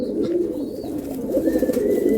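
Low, rolling pigeon coos repeat steadily up close, a soft warbling murmur from several birds with a few faint chirps above.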